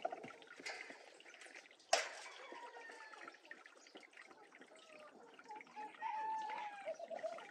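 Water drains out through a small opened valve, a faint gurgling trickle with bubbling and dribbling that swells slightly near the end, with a sharp knock partway through.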